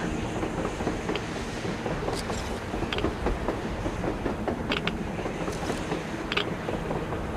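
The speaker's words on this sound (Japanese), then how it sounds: "列車だ。 地上を列車が走ってる。" A continuous low rumble and clatter of a train rolling along rails in Metro Exodus, steady and fairly loud, with occasional faint metallic squeals on top.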